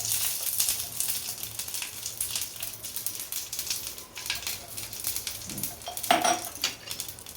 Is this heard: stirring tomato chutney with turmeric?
yes